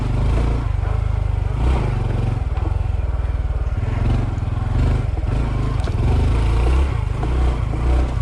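A Honda CT125 motorcycle on a single-track dirt trail, its small engine droning loudly and steadily the whole time with throttle surges and rough rattling over bumps, close to the rider.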